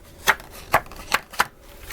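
Thick paper stock handled up close, four crisp papery snaps or flicks at uneven intervals, each sharp and brief, with quiet gaps between.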